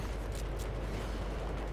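Gunfire in the video game Battlefield 3 is a dense, loud burst of continuous shooting and booming that fills the whole short moment, with no talking over it.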